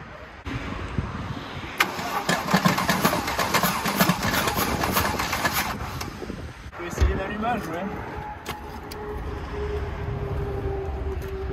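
A Mercedes 5-litre V8 fitted into a BMW E36 cranks and tries to catch. The starter whirrs for several seconds, then there is a thump and a rougher rumble, with a voice heard over the machinery.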